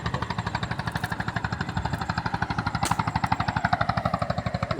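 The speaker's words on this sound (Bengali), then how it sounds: "ওই একটা বোট যাচ্ছে সুন্দরবনের উদ্দেশ্যে" A motor boat heading toward the Sundarbans chugs loudly and close, its engine beating in a fast, steady pulse with no pause.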